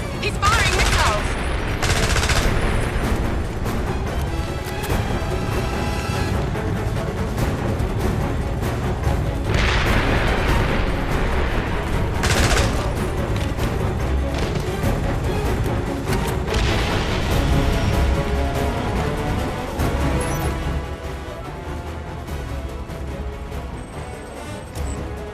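Missiles firing and exploding in the 007 Blood Stone video game on PS3, set in Siberia, with a dense roar of continuous gunfire-like bursts and booms, loud and sustained throughout and easing slightly near the end.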